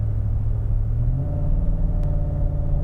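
A diesel car in fifth gear lugs up a slight rise and loses speed, a low, steady engine drone and road rumble heard from inside, its pitch sliding slightly as it labours.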